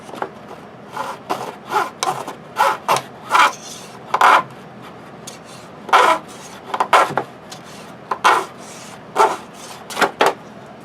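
Soft aluminum aircraft hull being cut and scraped with a hand tool, a series of short rasping strokes in a steady, uneven rhythm, close and moderately loud with no talk.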